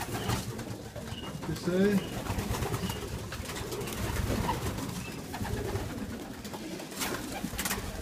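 Racing pigeons coo in a loft, a few soft rolling calls rising near the start amid steady background noise, while someone speaks briefly over them.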